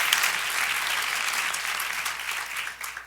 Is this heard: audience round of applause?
yes